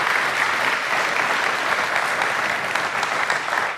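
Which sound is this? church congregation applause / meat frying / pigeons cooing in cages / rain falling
church congregation applause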